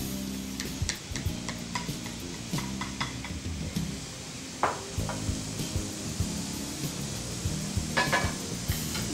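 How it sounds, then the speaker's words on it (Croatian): Chopped mushrooms, onion and garlic fry in clarified butter in a pan, giving a soft continuous sizzle broken by scattered clicks and scraping stirs, close by and without talk. "sve zajedno na lagane vate pržimo dok ne ispari tekućina što će ih šampinjoni otpustiti"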